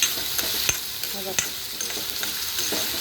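Sliced onions sizzle steadily in hot oil in a pan for a home-style cabbage curry, with a spoon scraping and stirring in several sharp knocks against the metal, close and fairly loud, no one talking.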